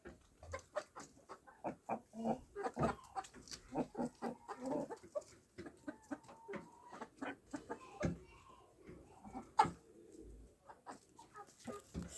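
A rooster makes repeated low clucking and cooing calls to its hens amid other birds, steady and fairly close, with scattered chirps and clucks throughout.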